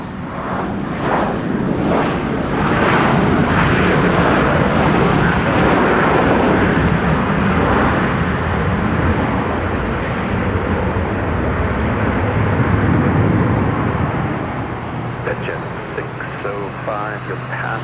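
A 25-year-old airliner at Minneapolis–St. Paul Airport roars loudly with a broad jet-engine rush, holding strong before easing off near the end, while radio chatter sounds over it.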